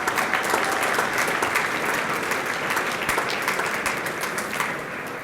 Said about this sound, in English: Please give them a round of applause that make this happen.